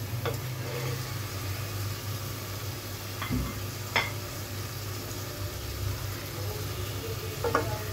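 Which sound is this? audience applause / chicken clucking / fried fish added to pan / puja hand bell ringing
fried fish added to pan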